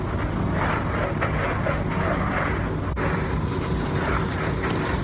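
A machine mixes salt into roasted peanuts with a dense, continuous rumbling churn, loud and steady from start to finish with no talk.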